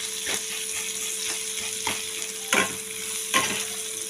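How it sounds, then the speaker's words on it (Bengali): Chopped onion sizzles in a hot pan, a steady close hiss broken by about five sharper scrapes as a spatula stirs it, while pea-pod bharta is being cooked. "দেখুন, পেঁয়াজটা প্রায় ভাজা হয়ে এসছে আমার।"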